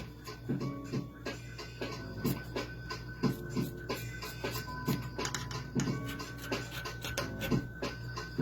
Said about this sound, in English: now that you've cut your bottle in two